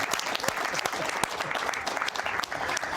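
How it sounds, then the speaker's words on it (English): Studio audience applause at a televised hypnotist show, loud and close with sharp individual claps standing out of the steady roar throughout. "Give her a big applause."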